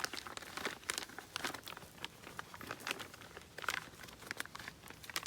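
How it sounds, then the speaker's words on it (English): A plastic bag is looped over a wire hoop and folded while collecting maple sap, giving steady close crinkling and rustling with scattered sharp crackles throughout, with no talking. "You'll loop the plastic bag over this hoop"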